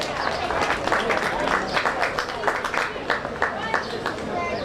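Applause from the crowd at a county fair swine show, a few seconds of rhythmic, moderately loud hand clapping with scattered sharper claps near the end and talk mixed in.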